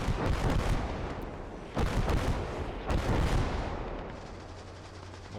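Bursts of StG assault rifle fire from the Gates of Hell battlefield game, loud and close, come in rapid volleys. Brief pauses separate the bursts, and heavy booming gunfire carries on throughout.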